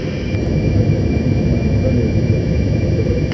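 Aircraft engine and generators on a transatlantic flight drone steadily as a loud, dense low rumble with a thin high whine, unbroken and without talk.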